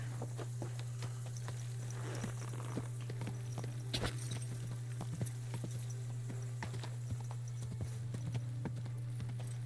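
Steady clip-clop of horse hooves walking at an even pace over a constant low hum, moderately quiet, in the video game Kingdom Come: Deliverance.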